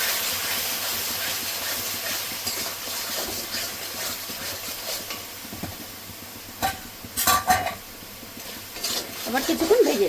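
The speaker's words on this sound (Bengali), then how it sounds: "মশলার সঙ্গে সুন্দর করে গুঁড়ো মশলার সঙ্গে কষিয়ে নেব।" Chicken curry masala with yogurt, for a raw papaya chicken curry, sizzles and hisses steadily in a pan, with irregular stirring scrapes growing louder and busier toward the end.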